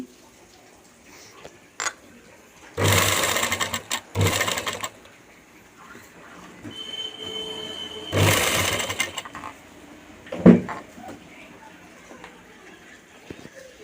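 A sewing machine runs top stitching in two loud, close bursts, each a few seconds long with a short pause inside, and quiet gaps between them.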